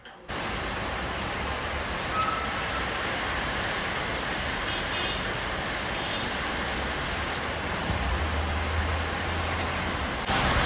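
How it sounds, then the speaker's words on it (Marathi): Steady, even rain hisses without pause, a dense wash of drops that stays constant from start to finish. "पाऊस इतका आहे"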